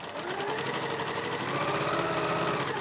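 A sewing machine stitches a quilt block in one continuous run, its steady mechanical whir holding close and even throughout with fine rapid needle chatter.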